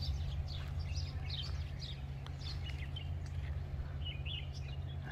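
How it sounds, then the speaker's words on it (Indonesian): Many birds sing at once in a forest-like patch of trees at Arafah, their chirps and whistles scattered throughout over a constant low hum, with no talking. "karena ini banyak banget suara burung."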